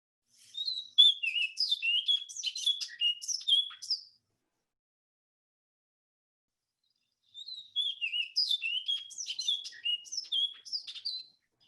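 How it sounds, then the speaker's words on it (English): Orchard oriole song, two bursts of rapid varied whistled and chirping notes a few seconds apart, clear and fairly close with silence between them. "this is an orchard oriole, and they have a sound a little bit like the house finch sound"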